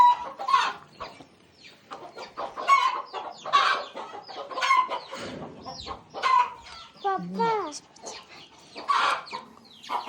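Chickens cluck and squawk repeatedly at close range, a busy, uneven chatter of calls with occasional louder cries.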